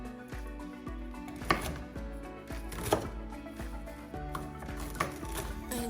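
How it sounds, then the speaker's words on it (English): Vegetables such as callaloo, pak choy, carrots and string beans are chopped on a board for Jamaican curry chicken, with sharp knife thuds at irregular intervals over a low kitchen hum and no talking. "I'm just chopping up the veggies while the peas cook and getting the spices in place."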